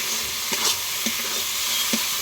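Masala for a mushroom dish fries in a pan with a steady, close sizzle, while a spoon scrapes through it in three or four quick stirring strokes.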